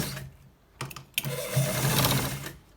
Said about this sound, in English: So guys, we are stitching it to the very end.